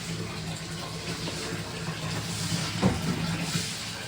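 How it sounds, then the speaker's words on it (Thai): Tap water runs in a steady, broadband wash for about four seconds, close by and fairly loud, with a brief splash or knock near the end. "น้ำไหลสะดวกสบาย"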